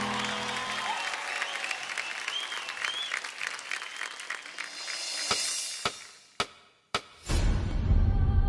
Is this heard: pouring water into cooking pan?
no